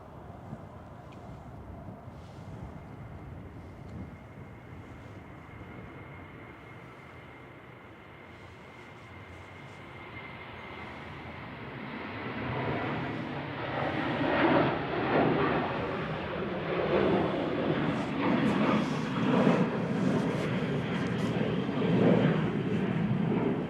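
Norwegian airliner rolling for take-off at Manchester Airport, a distant low rumble that builds into a louder, rougher jet roar over the second half.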